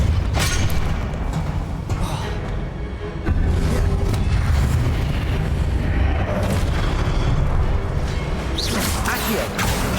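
Hogwarts Legacy spellcasting, with the Repulsor spell among loud booming blasts and whooshes in a continuous dense battle din, bursts landing throughout.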